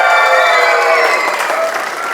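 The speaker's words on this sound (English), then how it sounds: "keep cheering, get the whistles going" Crowd at a dance show inauguration cheers and claps loudly, with shrill whistles sliding over the roar and gradually easing off toward the end.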